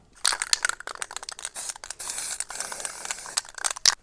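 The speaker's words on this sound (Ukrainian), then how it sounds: "беремо балончика і лупашимо другий слой" Aerosol spray paint can laying a second coat on the rear door triangle panel of an Audi A4 outdoors: a series of close, hissing spray bursts, short and uneven, with brief pauses between them.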